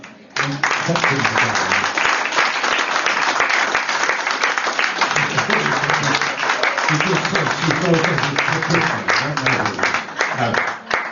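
Guests at a surprise 80th birthday party break into steady, sustained applause for the host's wife, dense clapping filling the room, with some voices and cheers mixed in throughout.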